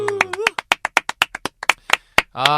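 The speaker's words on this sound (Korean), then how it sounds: "박수" A small group claps to celebrate a new book release during a podcast recording: about fifteen crisp, close, evenly paced claps, with brief voices talking just before and right after.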